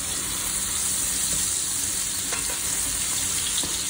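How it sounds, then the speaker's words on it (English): Steak in a tilted pan basted with browned butter and thyme, a dense, continuous close sizzle and spatter with faint spoon clicks, steady throughout. "And now we tilt and baste."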